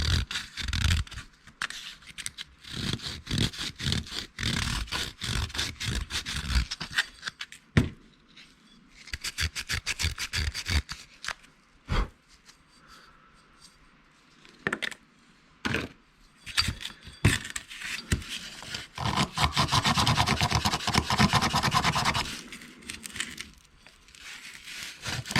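Scraping and scrubbing corrosion out of a Ford locking hub, with irregular bursts of gritty rubbing, sharp clicks and pauses, a longer sustained scour near the end, close and without talk.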